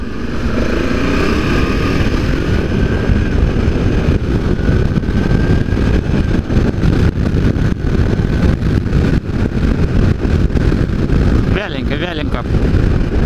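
A small BMW F650 GS motorcycle engine drones steadily while riding, with wind buffeting the microphone throughout.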